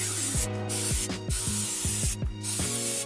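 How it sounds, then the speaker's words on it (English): Crep Protect waterproofing spray hits an Adidas Ultra Boost shoe in a rapid series of short, close hissing bursts, each sharp spurt quickly cut off. "just gonna give it a quick spray"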